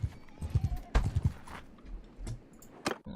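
Horse hooves clip-clopping in Mount and Blade Bannerlord, a run of sharp, quick hoofbeats in short bursts with game ambience and scattered clatter around them.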